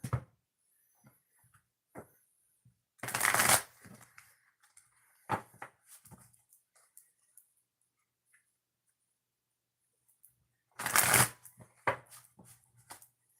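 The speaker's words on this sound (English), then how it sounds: "2 shuffles before we start" Oracle cards shuffled in two short bursts of riffling, close, separated by quiet stretches with faint taps and handling noises.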